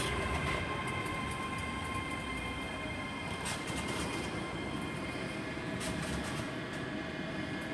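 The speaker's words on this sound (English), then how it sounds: "the 385s are just departing" ScotRail Class 385 electric trains pull away from Haymarket station in Edinburgh, a faint, even rumble with a thin high whine running over it.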